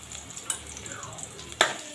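Green chilli, curry leaves, asafoetida and turmeric stirred in a pan for a potato chutney, with a soft steady sizzle and a couple of sharp scraping clinks from the spoon.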